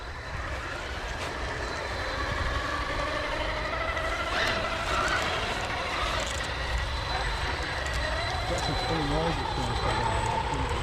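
A smooth, continuous electric motor whine from an RC bashing truck, steady and fairly close throughout, with faint higher tones drifting over a broad rushing noise.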